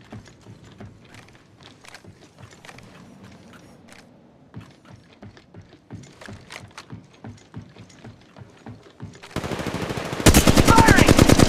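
Video game gunfire in Apex Legends Mobile: a long stretch of rapid, rhythmic shots and clicking mechanisms, then a loud, dense burst of automatic fire at the close.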